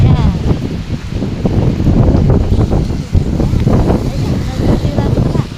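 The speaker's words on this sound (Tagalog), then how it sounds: "Malakas ang hangin" Strong typhoon wind in Kaohsiung, Taiwan, a loud continuous rushing roar with heavy buffeting against the microphone and gusts that rise and fall throughout.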